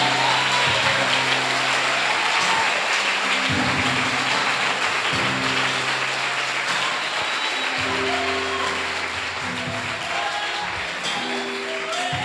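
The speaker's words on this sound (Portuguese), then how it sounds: "Aplaude a Jesus." A church congregation at a Brazilian Portuguese-language service claps in a broad, continuous roar of applause, with sustained musical tones from instruments playing underneath, steady and full from start to end.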